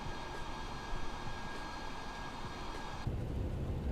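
Steady broadband roar of TFDI MD-11 jet engines in Microsoft Flight Simulator, a continuous airliner drone with hum and hiss that holds level throughout, gaining slightly more low rumble near the end; no voices.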